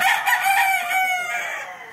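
A Boston Black gamefowl brood stud rooster crows once, close and loud, the long drawn-out call fading toward its end with no talk over it.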